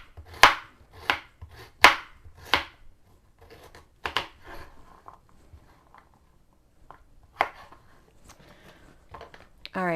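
A knife chops unpeeled carrots on a board: a quick run of four sharp close strikes, then scattered lighter cuts and taps with pauses between.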